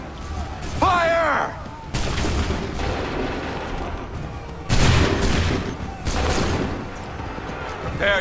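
Soldiers in Assassin's Creed 3 fire massed musket volleys, with several loud, booming fusillades a few seconds apart. Shouted commands and other voices sound between the shots.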